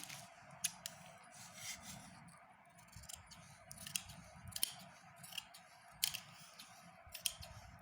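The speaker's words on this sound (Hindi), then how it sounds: "एक में यहाँ से जो ये ख़राब हो रखा है उसके पास से ही इसकी कटिंग कर दूंगी।" Scissors snip through a worn, damaged old towel being cut for reuse at home, with quiet repeated cutting crunches at an uneven pace and soft fabric rustling between cuts, close and without speech.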